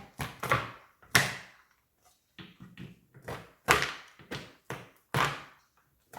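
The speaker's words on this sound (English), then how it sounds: "Just giving them a rough chop." A knife roughly chops almonds on a wooden board, a series of sharp taps and thuds at an irregular pace, close and fairly quiet.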